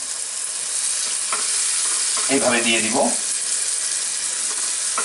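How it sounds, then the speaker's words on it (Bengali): Pineapple slices in caramel sizzle on a hot tawa while an upside-down cake is assembled, a steady close frying hiss throughout with a brief stretch of speech in the middle. "দেখেন আমার তাওয়াটা গরম আছে, এটা ভাজা হচ্ছে"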